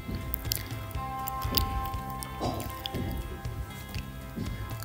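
Water stirred into gram flour (besan) batter in a bowl, close, soft wet squishing and dripping in a steady, repeated rhythm with no talk.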